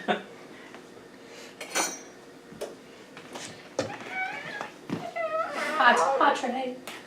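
Hot metal baking trays and a spatula clatter and scrape in a busy home kitchen while Viennese shortbread cookies bake, giving scattered clinks and knocks under lively talk among several people.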